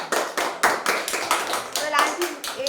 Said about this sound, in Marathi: टाळ्या वाजवा रे सगळ्यांनी.